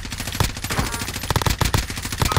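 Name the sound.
gunfire through a wall in the video game Call of Duty: Warzone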